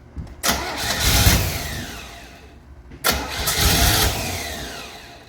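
A 1968 Camaro engine cranks and catches twice, each attempt a sudden loud burst that roars briefly and then fades back down, close up with no talking.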